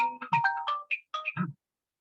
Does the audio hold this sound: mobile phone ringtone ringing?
yes